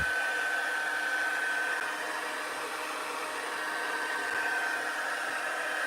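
Heat embossing gun running for a card-making project, a steady, fairly quiet whooshing blower hum with a faint high whine, unbroken for several seconds.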